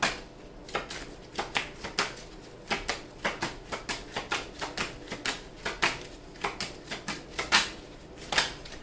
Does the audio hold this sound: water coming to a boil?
no